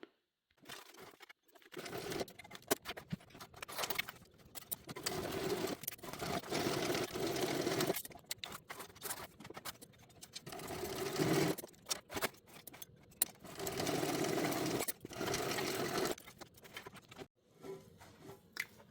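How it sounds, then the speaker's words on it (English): A sewing machine stitches a tote bag in several long bursts of rapid mechanical whirring, stopping and starting between runs, recorded close up. "Let's head to the sewing machine and take care of that"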